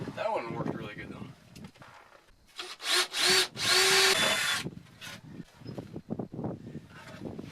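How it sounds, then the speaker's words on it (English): A power drill bores 3/8 inch holes in wood for 1/4 inch hardware, whining in a couple of loud bursts of a second or two, surrounded by someone talking before and after. "I'm drilling 3/8 holes"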